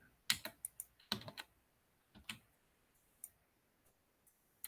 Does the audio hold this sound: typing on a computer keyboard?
yes